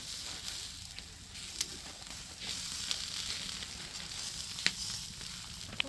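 Pork shoulder sizzles on a wood-fired barbecue grill plate, a steady soft crackle with occasional sharp pops close by.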